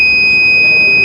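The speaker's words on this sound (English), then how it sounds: "The buzzer also give the output." Buzzer on a pair of smart shoes for blind users, triggered when the obstacle sensor detects something, sounds as a steady, loud electronic tone held through the full second without pause.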